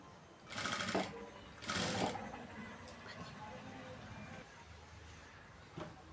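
A sewing machine runs in two short loud bursts while stitching the back neck of a blouse. Quieter rustling of fabric handling follows the bursts, with no one talking.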